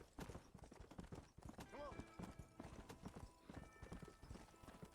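Horse hooves clip-clop in the video game Red Dead Redemption, a rapid rhythmic trot with a brief whinny midway, while a person talks over it.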